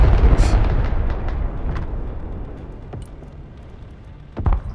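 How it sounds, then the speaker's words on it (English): Incoming bombs in the video game Broken Arrow land with a loud, rumbling blast that slowly fades, and a second, sharper boom hits near the end. "Incoming bombs."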